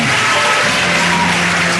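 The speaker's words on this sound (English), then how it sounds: "Applause for Adesanwo Adewale." Loud, dense clapping fills the hall at a University of Lagos 2020 convocation as a chemical and petroleum engineering graduate receives a two-million-naira prize. The applause holds steady and unbroken for the whole moment.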